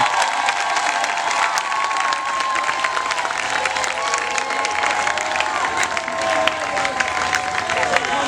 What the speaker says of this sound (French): Il faut applaudir très fort pour les efforts.